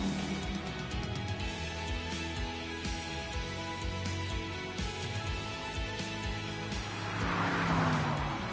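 A BMW with a V8 engine drives in The Grand Tour video game, giving a continuous, moderately loud engine drone with shifting tones that swells slightly toward the end.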